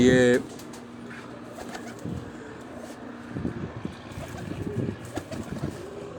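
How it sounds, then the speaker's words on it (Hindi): Low, soft pigeon coos recur intermittently, close by on a rooftop, with a voice speaking briefly at the start and light background noise. "ये कबूतर को देखें, बोल भी रहा है माशाल्लाह"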